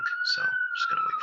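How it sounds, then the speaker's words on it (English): A steady emergency siren wails on a New York City street, its tone holding level for the whole stretch while someone talks over it close to the microphone. "apologize for the sirens out there. We're in New York City."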